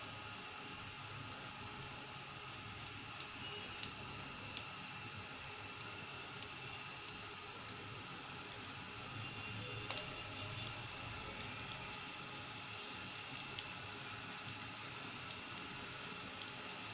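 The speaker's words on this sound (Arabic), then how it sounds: "هبتدي انزل بالكفتة بتاعتي كده، اهو ده مقدار الزيت اللي انا عايزاه." Kofta meatballs fry lightly in a shallow layer of oil for a tomato-sauce dish, giving a faint, steady sizzle with scattered tiny pops and ticks throughout.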